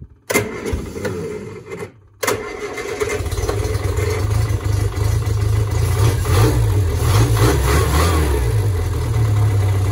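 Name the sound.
1973 Bond Bug 700ES engine starting and running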